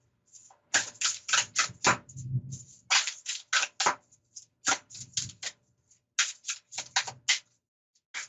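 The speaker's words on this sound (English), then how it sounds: "This next card to shuffle." Quick bursts of crisp tarot card riffling and slapping, repeated in short rapid runs with brief pauses between, close and clear, with a faint voice underneath at times.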